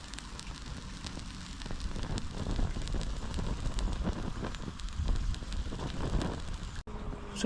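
An alcohol stove burns under a pot of water at a wild camp, a steady soft roaring rush with faint crackle that runs unbroken throughout, close and even in level.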